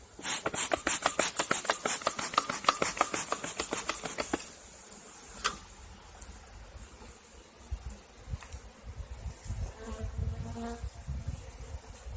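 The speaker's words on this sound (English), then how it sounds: "that is a full box of bees" Dense, loud buzzing of many honey bees close by in a full hive box during a bee tree cutout, with rough rasping pulses early on that give way to a steadier, softer hum.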